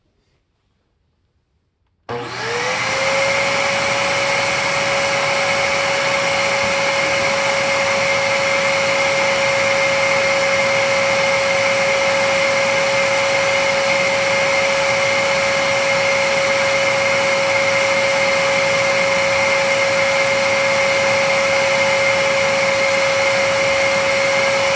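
A Bissell Heavy Duty 50C9 vacuum cleaner switches on and runs with its HEPA filter removed, a loud, steady close-up roar with a sustained whine that holds unchanged for over twenty seconds.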